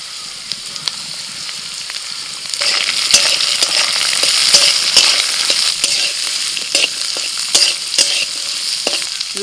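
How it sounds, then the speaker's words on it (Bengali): Potato, carrot, capsicum and beans fry and get stirred in a pan for oats khichuri, a steady close sizzle that swells after a few seconds, with scraping spatula clicks scattered throughout. "সবজিগুলো ভালো করে ভেজে নিয়ে"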